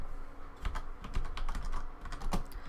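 Rapid typing on a computer keyboard, a quick run of close, crisp key clicks with a few heavier thumps, heard alone without talk.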